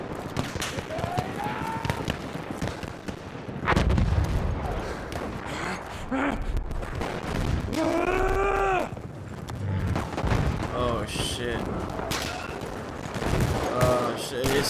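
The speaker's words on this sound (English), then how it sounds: "Mad tanks coming over here, guys." Battlefield 1 open beta combat with tanks advancing: heavy bursts of gunfire and booming blasts crowd together loudly throughout, while people talk and shout over the noise.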